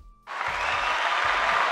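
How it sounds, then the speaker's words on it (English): Applause sound effect: a crowd breaks into steady, dense clapping after a brief quiet start, holding at an even level to the end, with a faint low voice underneath. "You earned an applause"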